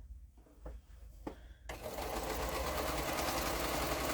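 A few soft knocks lead into a sewing machine stitching quilt pieces, running at a fast, even, continuous whir to the end.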